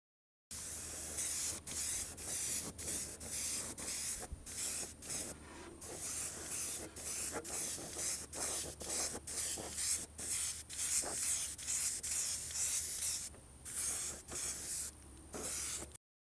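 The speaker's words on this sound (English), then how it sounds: "acrylic paint such as we're using with our airbrush" An airbrush sprays orange acrylic paint onto an RC car body in a long series of steady hissing bursts, each cut by brief pauses, close and loud with no talking.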